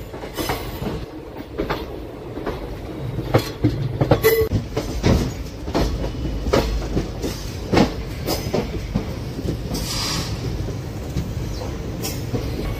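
The 12787 Nagarsol superfast express rolls along on its way toward Telangana, a steady loud rumble with repeated clickety-clack wheel beats and sharp rail clanks, heard from inside the moving coaches with no voices.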